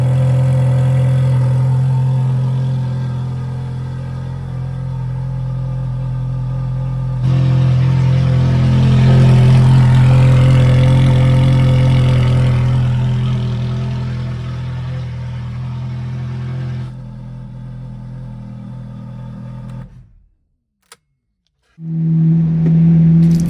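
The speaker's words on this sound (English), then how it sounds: "you just get a build-up of revs and engine noise" A Ferrari engine runs and revs up in a steady loud drone that swells through building revs, then cuts out briefly before firing back up, heard close and alone.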